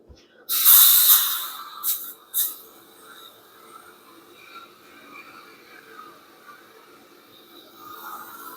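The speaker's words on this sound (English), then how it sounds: "I'm going to spray everything down with this Lysol foam cleaner." Lysol foam cleaner sprayed into a toilet during house cleaning, one long loud hissing burst followed by two short quick sprays, close up, then quiet fizzing of foam.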